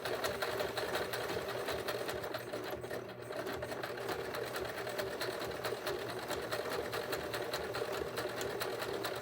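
A sewing machine stitches a fabric mason jar cover in a zigzag pattern, a steady, rapid mechanical whirr with fast needle ticks running unbroken, fairly close and moderately quiet.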